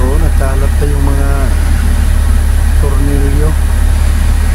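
A 1997 Mercedes-Benz 1838 tractor head truck, an 18-tonner rated at 380 horsepower, idles in a workshop with a loud, steady low drone. Someone talks over the constant engine note.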